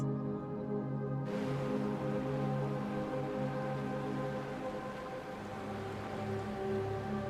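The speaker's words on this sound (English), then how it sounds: "Heavy rain." Heavy rain pours steadily onto surfaces, a dense, constant hiss that starts abruptly after a brief quieter opening and continues without a break, with a faint underlying hum and no voices.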